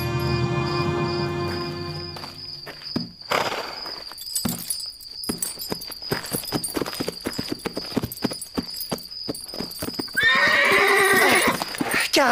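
Horses in an animated adventure scene: rhythmic clip-clop of hooves picking up pace, with a loud neigh near the start and another whinny near the end over a sustained musical tone.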